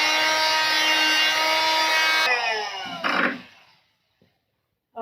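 A steady, high-pitched mechanical whir of a sander grinds against a wooden table, then winds down and stops, leaving near silence with a couple of small knocks.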